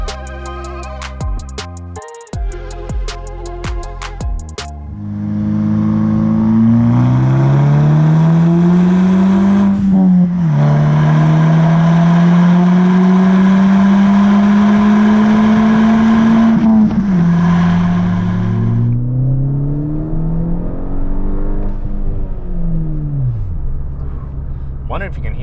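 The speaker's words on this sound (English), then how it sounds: "this exhaust sounds great. It is just enough of a growl to be aggressive, but it's not too loud" A Rev9 catback exhaust on a MK6 GTI revs repeatedly with a deep, throaty growl rising and falling in pitch, loud and close, with a quieter idle rumble toward the end.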